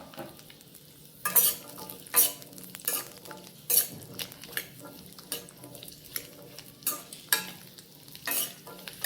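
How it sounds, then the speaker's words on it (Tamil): Onions sautéing in a little oil for a mutton thanni kulambu, with a steady soft sizzle and repeated sharp scrapes and clinks as a spoon stirs the pan, close and moderately loud, no talk. "எண்ணெய் இல்லாமலே கொஞ்சமாக லைட்டாக ஊற்றி வெங்காயத்தை வதக்கினா போதும்."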